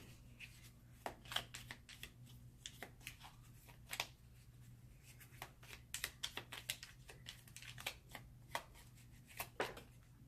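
Tarot cards shuffled and drawn by hand, with a steady run of crisp, close riffling snaps and slides over a low background hum, no talking.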